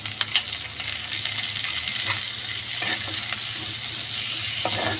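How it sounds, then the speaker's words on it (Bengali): Potatoes with onion and chili frying in a pan, a steady close sizzle with a few stirring scrapes and clinks over the full stretch, no talking. "দিয়ে আমি ভাজতে থাকবো।"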